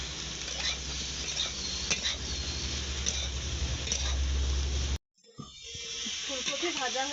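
Cauliflower fries in oil with salt and turmeric, giving a dense, steady sizzle up close. It breaks off briefly, then resumes with a faint voice underneath.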